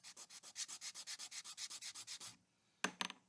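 Spinning Pro/Street wheel sanded lightly by hand, a rapid even run of rhythmic rubbing strokes close up, then a pause and a couple of sharper scrapes.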